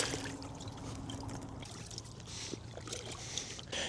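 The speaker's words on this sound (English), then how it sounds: "So let's go scoop up some water now." Collapsible bucket dipping into a lake, a steady soft watery trickle and slosh, with a few brief splashes and gurgles near the end, faint and close, with no talking.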